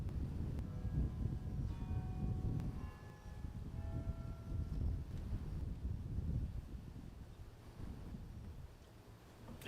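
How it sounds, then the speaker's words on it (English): A large courthouse bell tolls twelve times at a slow, even pace during a rededication ceremony, ringing out over a low rumble of outdoor wind noise. "Doesn't that bell sound good, huh?"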